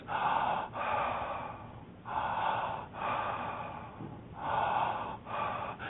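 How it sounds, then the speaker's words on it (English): Deep connected breathing, each inhale flowing straight into the exhale with no pause, repeating in a steady rhythm of about five to six breaths, close and clear with no talking. "a connected breath is a breath where the in-breath and the out-breath flow as a unit"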